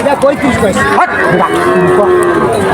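Loud, drawn-out moos of local calves overlap one another at close range at Chuknagar cattle market, with a busy crowd murmuring and calling in the background.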